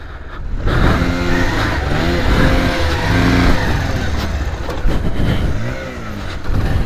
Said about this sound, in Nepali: अब उकाल्न पर्यो बाइक